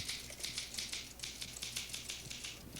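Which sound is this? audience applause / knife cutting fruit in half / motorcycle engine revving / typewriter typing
typewriter typing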